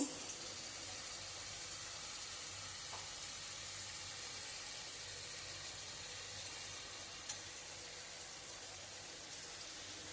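Ghee sizzling in a pan while chicken balls are being cooked, a faint, steady hiss of hot fat with a few small pops, no voices over it.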